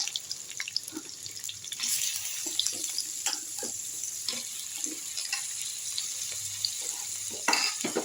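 Vegetables go into a hot pan for tomato vegetable biryani, giving a sizzle with clattering stirs and scrapes of a utensil in bursts, close by and without talk.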